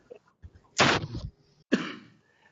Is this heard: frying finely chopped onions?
no